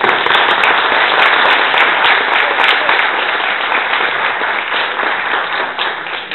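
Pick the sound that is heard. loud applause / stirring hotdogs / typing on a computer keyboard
loud applause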